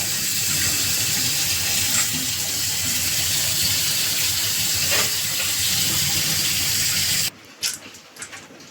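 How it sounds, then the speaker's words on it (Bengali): Tap water gushes steadily into a sink while lentils (dal) are rinsed for a motor dal recipe, a loud continuous wash that suddenly stops, leaving a few soft clinks and splashes. "আমি 4 বার জল পাল্টে পাল্টে ধুয়েছি।"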